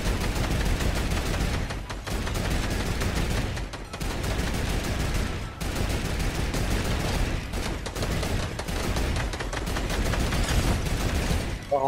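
Sustained, dense gunfire from a Fortnite firefight, with loud rapid shots and explosions almost continuously layered over one another, broken only by a few momentary dips.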